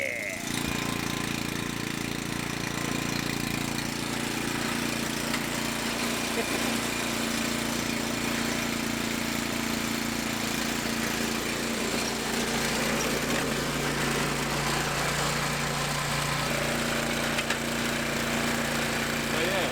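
A small engine drones steadily at close range, a continuous buzzing rumble with slight fluctuations, while people talk faintly beneath it.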